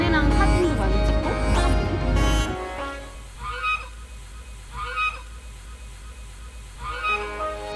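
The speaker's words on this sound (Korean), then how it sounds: "저기 아래 가면 거위 이렇게 한 쌍이 있는데 그 거위 한 쌍이 아주 귀엽고" A pair of geese by a lake honk in short, moderately distant calls that recur every second or so, after a loud, dense opening stretch of sound.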